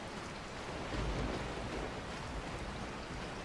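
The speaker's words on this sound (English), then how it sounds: "And it's raining." Rain falling in Resident Evil 4, a dense, even hiss of drops like rain on a surface, steady and moderately quiet for the whole stretch with no talk over it.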